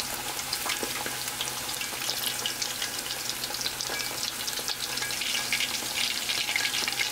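Battered shrimp deep-frying in hot oil gives a steady, close sizzle of dense crackling bubbles, even and unbroken throughout with no talking.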